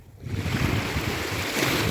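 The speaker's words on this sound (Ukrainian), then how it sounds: "Отаке, друзі, сьогодні море." Black Sea waves wash against the shore at Langeron beach in Odesa as a continuous, steady surf rush mixed with wind noise.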